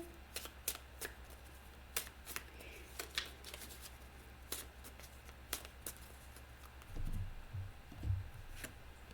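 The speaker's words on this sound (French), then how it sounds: "Je vais sortir une carte ici, là." A tarot card is drawn from the deck, a few soft shuffling and sliding card sounds close by, with light taps and handling noises scattered through and a low background rumble.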